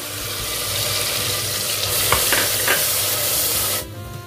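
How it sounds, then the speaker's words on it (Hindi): Onion paste fries in melted butter in a pan for North Indian chole, giving a loud, steady broadband sizzle with a few stirring scrapes, then drops abruptly near the end. No one speaks. "जैसे ही बटर मेल्ट हो जाता है, इसमें डालेंगे हम प्याज को।"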